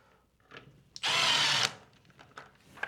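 A power drill drives a screw while a wired motion detector is mounted near a drop ceiling, one loud half-second whir set between soft handling clicks and taps.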